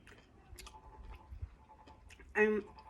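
Soft close-up chewing and mouth clicks from someone eating jackfruit soup, quiet and intermittent, with a brief louder vocal murmur near the end.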